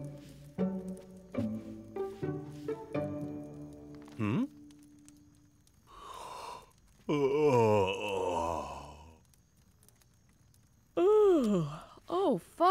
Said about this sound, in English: I think your yawns are catching.